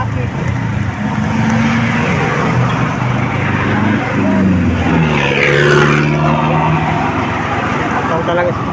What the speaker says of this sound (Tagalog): sobrang ingay mga idol, lakas ng ingay ng truck.